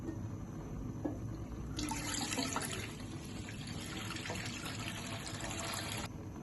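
Two kilograms of milk are poured into a pan on a lit stove for rice kheer, a steady liquid splashing and trickling stream heard close over constant background noise.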